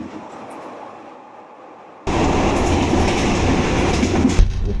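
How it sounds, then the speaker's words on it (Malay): Sleeper train riding into Bangkok, heard from the gap between carriages: a quieter rumble that jumps to loud, close rattling and clattering of wheels and couplings, with no talking. "Saya lepak antara gerabak ni. Memang bising sikit lah."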